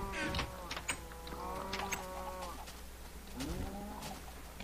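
Minecraft chickens cluck in a series of short, bright, warbling calls, some overlapping, at moderate level over a low steady hum.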